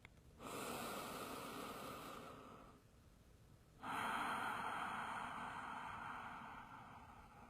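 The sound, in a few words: deepened breathing during yoga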